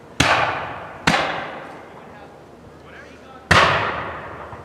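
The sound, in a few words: musket gunfire at a fort battle reenactment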